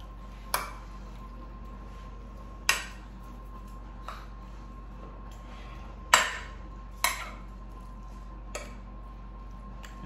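A spoon scrapes and taps against a baking dish while flattening an Italian meatball casserole in sauce, giving several sharp separate clinks spread out over a quiet background with a steady low hum.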